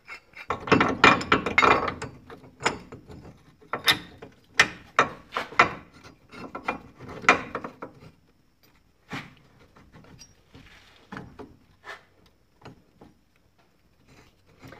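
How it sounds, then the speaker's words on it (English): On a Jeep Cherokee ball joint job, a bent ball joint press screw is wound in by hand, giving a series of close, irregular ratcheting clicks and metallic scrapes that thin out and grow sparser after the first half. "It helps if you wind the screw in"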